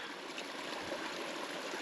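Stream water rushes steadily while hikers cross it at over 11,000 feet near Iron Mountain, a continuous broadband wash of flowing water, close and moderately quiet, with no talking.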